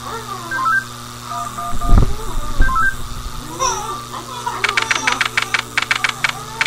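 A cell phone in a Henry Stickmin video game beeps out a rapid series of dialing tones in the last seconds, following game sounds and thumps with voices talking over the scene.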